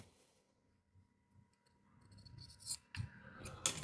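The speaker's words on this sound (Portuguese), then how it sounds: "a gente já pode cortar esse excesso" Fabric scissors trim excess bias binding while a women's dress shirt is sewn: faint rustling at first, then a few crisp, close snips grow louder toward the end in a quiet room.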